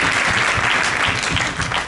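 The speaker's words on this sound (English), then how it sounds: "Let's just give them one round of applause, right?" Audience at a youth leadership summit applauding a panel, a dense burst of clapping from many hands that fills the whole moment and stays loud throughout.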